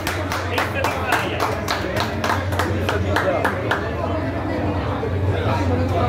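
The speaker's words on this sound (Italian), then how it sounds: "l'applauso." A small group claps in a crisp, rhythmic beat of sharp hand claps at a pizzeria gathering, close and steady, with people chattering underneath.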